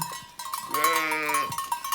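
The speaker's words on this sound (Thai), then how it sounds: "แพะกับแกะเขาเลี้ยงแพะเลี้ยงแกะ" A goat or sheep on a farm in Norway lets out one clear, wavering bleat lasting under a second, close by, with faint background noise and light clatter around it.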